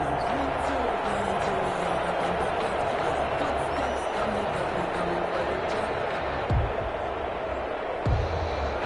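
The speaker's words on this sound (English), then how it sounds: "Crowd getting in it a bit already." A packed stadium crowd at an American football game roars steadily throughout, with a dense, continuous swell of voices and a couple of brief louder bursts near the end.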